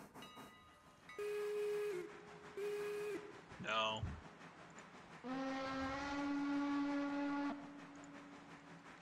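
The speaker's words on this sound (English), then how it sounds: "we need to get a better whistle" Steam train whistles tested one after another in the railroad game Railroader: two short, identical harmonic toots, a brief squeal, then one longer sustained blast, loud and clear over a quiet background.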